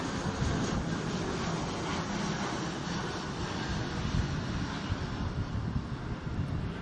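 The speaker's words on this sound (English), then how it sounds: "Mrs. Secretary, this flyover is for you." Military aircraft fly over a Navy destroyer commissioning ceremony in Key West, a loud, sustained broadband jet roar with wind buffeting that holds steady throughout.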